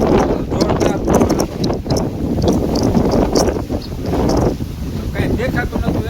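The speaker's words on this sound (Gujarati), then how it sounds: "જોરદાર પવન" Strong gusting wind sweeping across open farmland during a storm, buffeting the microphone with loud, rough, uneven surges that rise and dip for the whole stretch.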